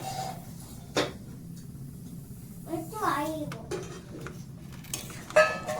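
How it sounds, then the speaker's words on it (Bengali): Semolina being stirred into water in a metal pot in a village kitchen: scattered scraping clinks of the spoon against the pot, close and moderate in level, with a voice and other talk now and then. "ভালোভাবে নাড়িয়ে নেব।"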